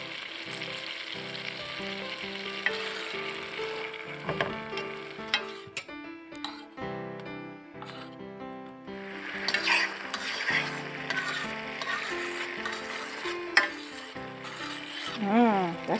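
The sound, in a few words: shrimp scampi sizzling in butter and garlic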